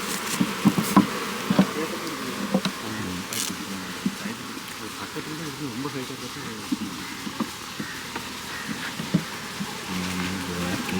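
A swarm of Italian honeybees buzzes continuously while being caught into a box outdoors, with a dense hum, scattered sharper knocks and faint voices underneath.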